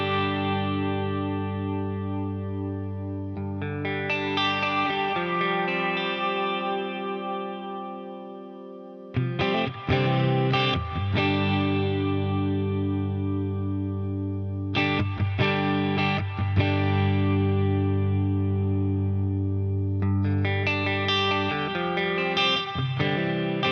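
Electric guitar played through the Neural DSP Archetype Abasi plugin with reverb, its tone shaped by high-pass and low-pass EQ filtering; sustained, effects-laden chords and notes ring continuously, loud and alone, with brief pauses between phrases.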